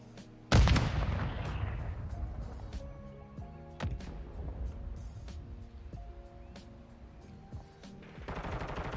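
A grenade blast in a first-person shooter game goes off loud and close, then scattered gunshots and sharp impacts follow over a sustained rumble of battle noise.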